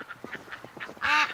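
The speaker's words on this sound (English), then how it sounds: "I know the volume level seems a lot louder" Ducks quack repeatedly in short bursts, several birds calling close by, with one louder, harsher quack near the end.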